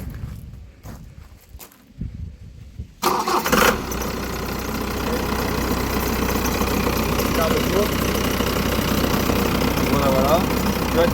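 A camping-car diesel engine is cranked after some quiet shuffling and footsteps, catches with a loud burst, then settles into a steady, close idle rumble.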